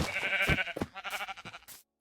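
Sheep in Minecraft bleat several times in a row, close and moderately loud, each call a short wavering baa followed by a brief pause.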